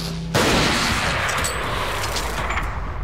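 Shotgun blasts at point-blank range in the survival horror game Resident Evil 4, a sudden loud broadband burst followed by a sustained dense wash of gunfire-like noise.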